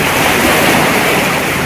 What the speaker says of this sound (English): There's the tidal surge going through.